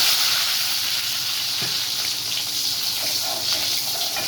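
Garlic and curry leaves fry in hot oil for a sundakkai kuzhambu, giving a loud, continuous close-up sizzle with a faint bubbling crackle throughout. No voices.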